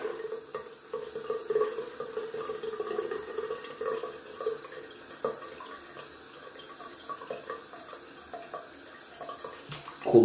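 Tap water runs steadily into a sink, with light splashing and faint clinks as a shaving razor is rinsed under the cold stream, close by.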